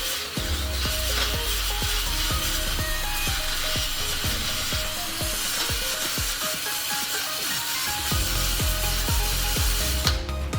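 A tool scraping and cleaning out freeze plug holes in the engine block of a 1996 Ford Ranger, a continuous gritty grinding with rapid rhythmic scraping strokes, close and steady.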